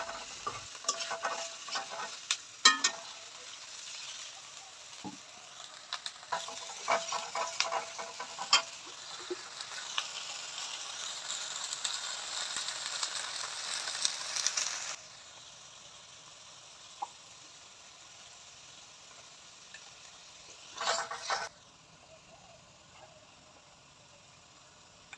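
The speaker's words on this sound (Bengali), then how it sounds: "সুন্দর করে মশলাটা কষানো হবে।" Spice masala of salt, chili powder, turmeric and cumin stir-fried in a pan for a rural-style beef tripe and lentil dish: steady sizzling and frying with scraping stirs, loud for about fifteen seconds, then a quieter simmer with one more brief stirring burst.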